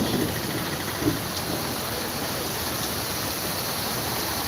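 Heavy rain pours in a dense, steady roar, with a couple of brief low thumps near the start.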